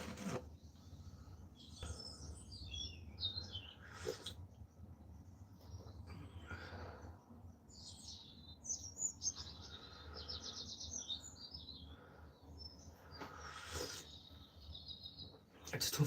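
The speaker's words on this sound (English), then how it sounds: "listen to the birds twerping." Birds chirp outdoors in scattered bursts of high tweets and short trills, some near and some farther off, over a quiet low background hum. No one speaks.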